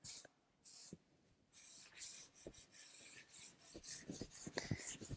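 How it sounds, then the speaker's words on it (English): A cloth or pad rubbing finish into the pores of wood, a close dry rasping scrub in uneven strokes that grows busier and louder toward the end, with no talk. "this is to help rub it into the pores"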